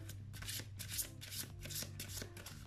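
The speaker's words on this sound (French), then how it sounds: "En attendant, je bats ces magnifiques cartes." Tarot cards shuffled by hand, a rapid series of close, crisp riffling bursts repeating in a steady rhythm.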